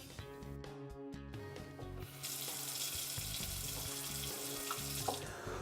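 Water runs steadily from a kitchen sink faucet after the water supply is reconnected, a close, continuous hiss that grows louder partway through, with faint background tones and no talking.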